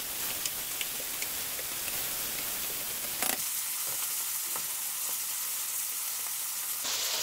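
Boerewors sausage and tomatoes sizzling together in a pan, a steady, close hiss of frying with scattered pops and a brief clatter partway through, no talking.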